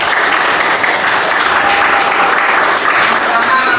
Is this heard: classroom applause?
yes